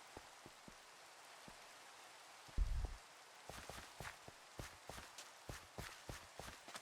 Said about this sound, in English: I always find it difficult to do this when it's raining.